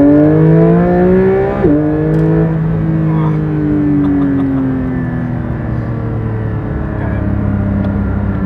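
Porsche 911 GT3 engine heard from inside while driving, a loud, smooth drone whose pitch drops with a shift, then climbs slowly and steadily, with people talking over it.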